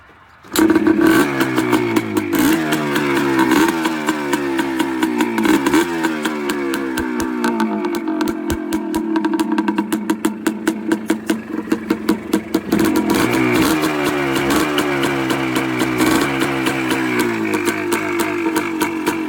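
A Yamaha Blaster ATV engine, low on idle and due for tuning, is cold-started and runs loud and close, with sharp revving bursts and a rough, pulsing idle in between.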